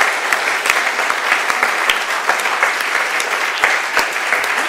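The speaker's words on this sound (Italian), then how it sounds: "applauso glielo facciamo" Lecture audience breaks into applause for a speaker, a dense, loud clapping that carries steadily for several seconds with sharp individual claps standing out.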